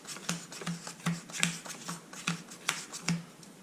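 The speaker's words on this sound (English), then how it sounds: "Then you shuffle the deck again" A deck of cards is shuffled in quick repeated riffles and snaps during a Wizard card game, crisp close bursts coming in a steady uneven rhythm with no talking.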